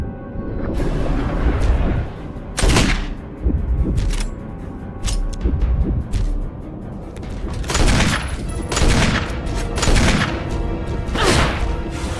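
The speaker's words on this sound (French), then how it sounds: "Alors que Barry, il a un énorme flingue." Heavy gunfire from a big gun in the Resident Evil HD Remaster video game; loud, sharp booming shots ring out one after another at irregular intervals, each followed by a brief echoing tail, with no talking.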